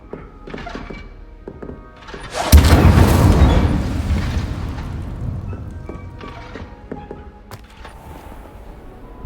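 Incendio fire spell in Hogwarts Legacy setting things ablaze, a sudden heavy whoosh and burst that roars loudly then slowly dies away, framed by scattered small clicks and thuds.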